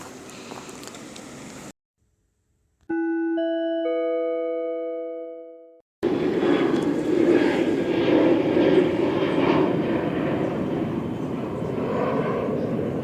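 An airplane passes overhead as a broad, steady rushing roar that fills the second half, preceded by a short sequence of clean electronic chime tones and brief silence.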